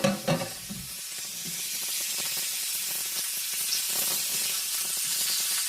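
Steak hits a hot pan and sizzles loudly, a bright steady hiss up close that runs the whole time with faint scraping and stirring underneath.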